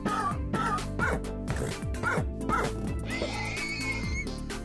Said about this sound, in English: not a very happy horse